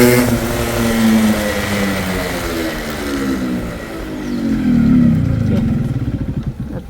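A 1991 Yamaha RX 100 two-stroke motorcycle revs loud and close. The engine climbs in pitch, dips, then surges again, and rapid pulsing toward the end suggests it is riding on or throttling back.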